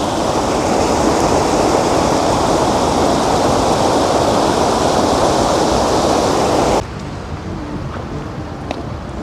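A river or waterfall in Jermuk, Armenia roars loud and close in a constant, dense rush, then cuts off abruptly to a much quieter background near the end.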